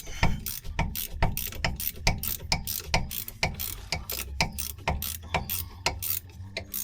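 A box wrench ratchets a bolt out on a 2013 Audi in a quick, steady run of close metallic clicks with no talking.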